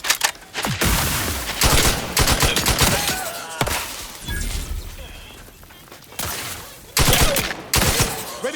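Rapid bursts of gunfire in the sci-fi video game The Outer Worlds 2, loud volleys and sharp single shots separated by brief lulls, with faint game voices in between.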